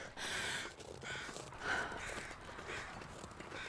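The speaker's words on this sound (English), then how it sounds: "Hearing more crows." Crows caw faintly in the distance in The Long Dark, a few scattered calls over a steady wash of outdoor ambience and soft footstep-like shuffling.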